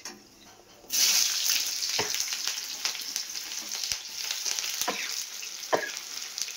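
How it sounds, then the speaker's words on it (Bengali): Onions dropped into hot oil already tempered with dried chilli and nigella seeds: a sudden loud sizzle bursts in and keeps frying steadily, broken by a few sharp clicks and scrapes from stirring, no voices. "তেল গরম করে শুকনো লঙ্কা একটু কালো জিরে ফোড়ন দিয়ে দিয়েছি। এবার দিয়ে দেবো পেঁয়াজ।"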